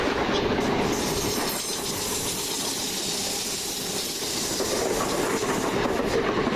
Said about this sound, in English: Next up, Fast Gatwick Express service. 3. The approaching train does not stop at this station.